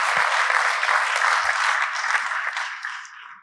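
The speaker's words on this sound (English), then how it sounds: "Please give them a huge round of applause." An audience at a technology panel session gives a loud, dense round of applause, sustained for about three seconds before quickly tapering off.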